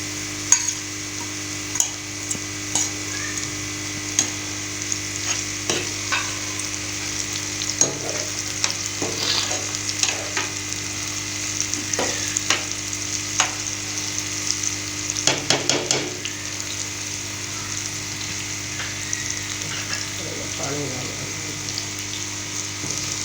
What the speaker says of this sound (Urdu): اب پیاز اور ٹماٹر بالکل فرائی ہو چکے ہیں